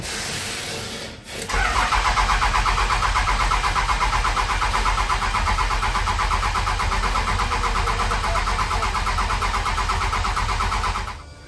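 A 6.7 Cummins diesel fitted in a 1978 Chevy squarebody truck turns over and catches after a short stumble, then drones loudly and steadily at close range for about ten seconds before cutting off.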